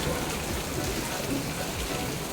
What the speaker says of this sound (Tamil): இந்த மழை பயங்கர மழை